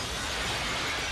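Glass shattering during a staged disaster scene in a Hollywood film: one loud, dense crash of breaking debris fills the whole short moment, with no voices.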